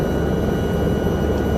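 Helicopter in a flight simulator game flying a mountain rescue mission in the Alps, a steady, dense rotor and engine drone filling the whole moment with no break or speech.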